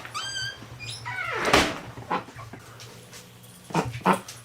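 A dog whines and squeaks at the door in freezing winter cold, several high, wavering whimpers near the start, then a louder burst and a few shorter whines, close by with no talk.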